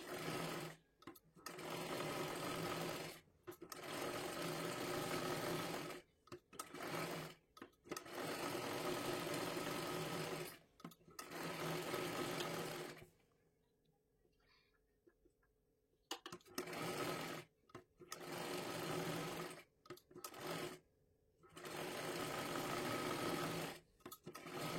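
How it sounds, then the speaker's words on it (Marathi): Sewing machine stitching a princess blouse seam, loud whirring runs in repeated bursts of a few seconds each, broken by brief stops and one longer quiet gap midway, no speech. "आता हे पूर्ण शिलाई करून घ्यायचं आहे"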